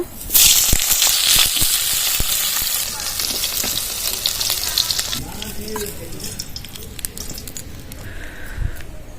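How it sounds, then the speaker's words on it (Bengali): Long-cut eggplant slices frying in hot oil in a kadai: a loud, dense, hissing sizzle that is strongest at first, then settles into a steady, slightly softer crackle, close up. "লম্বা লম্বা করে বেগুন কেটে নিয়েছি এবার ভেজে নেব"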